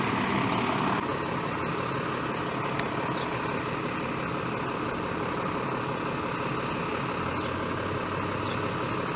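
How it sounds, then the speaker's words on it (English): A trash truck passes at a steady distance outside, its heavy diesel engine making a continuous low rumble and drone that holds for the whole stretch without fading much. "Let's wait till this trash truck goes by."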